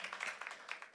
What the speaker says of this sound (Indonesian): tepuk tangan buat Yesus kita